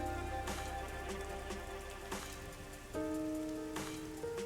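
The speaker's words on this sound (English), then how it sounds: "You're just out here standing in the rain like it doesn't bother you." Rain falls in a mystery labyrinth video game as a quiet, continuous patter under sustained tones of game music, with a few soft thuds and no speech.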